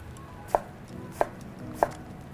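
A knife cuts celeriac into even matchsticks on a board, three crisp, evenly spaced chops standing out sharply against a quiet background.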